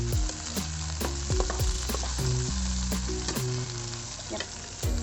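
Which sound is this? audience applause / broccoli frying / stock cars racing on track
broccoli frying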